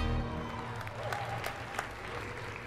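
Audience applause at the Samsung Galaxy S4 launch event, a soft, distant patter of clapping from a crowd lasting a few seconds under a faint background hum.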